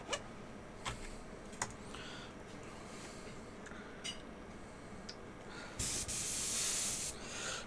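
An airbrush sprays paint onto Corvus Games model terrain, a steady, loud hiss lasting about two seconds near the end, after a run of quiet taps and small clicks.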